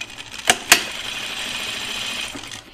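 A sewing machine stitches a French seam on a Grainline Studio Willow tank or dress, two sharp clacks near the start giving way to a steady, fairly quiet running hum that fades out at the end.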